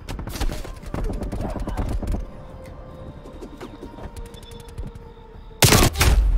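Gunfire in Call of Duty: Black Ops, with dense rapid bursts of shots at the start, sparser cracks through the middle and a loud burst at the end, partly under talk.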